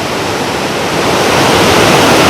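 Loud, steady roar of Sandhoa waterfall in Samahni valley, Azad Jammu Kashmir, a dense hissing rush of falling water close by, unbroken for the whole stretch.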